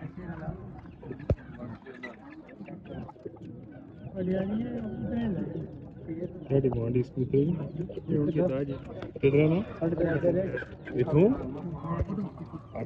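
Several pigeons coo in soft, rolling bursts close by at a pigeon market in Kallar Syedan, with a person talking at times in the background.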